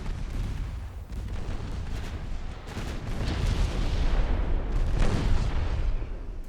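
Rumbling naval gunfire in Ultimate Admiral Dreadnoughts: warship guns fire in a continuous heavy barrage, deep booms overlapping with no pauses and growing louder toward the end.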